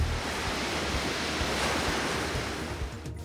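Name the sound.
ocean monster waves crashing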